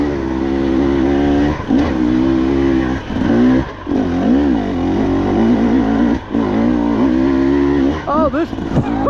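A 2024 KTM 300XC-W dirt bike fitted with a TSP head and ECU tune revs hard while being ridden, its loud, close engine note rising and falling continuously with brief throttle dips and sharp pitch swings near the end.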